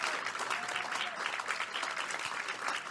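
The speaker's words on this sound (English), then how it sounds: "I request that we clap for the lady and the IFDC team" Conference attendees at a soil health and food security event clap for the organizer and the IFDC team, steady moderate applause from a medium crowd filling a few seconds, with a faint voice briefly audible beneath.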